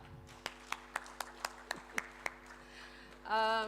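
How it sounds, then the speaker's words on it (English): Sparse, evenly spaced hand claps at an official commission gathering, about eight single claps ringing out in a steady beat in a reverberant hall, then a brief swell of louder sound at the end. "can I get a hand clap?"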